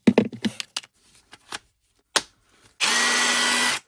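Parkside 12V cordless drill driver spinning up alone for about a second after a few clicks and handling knocks, a steady loud whir held to the end.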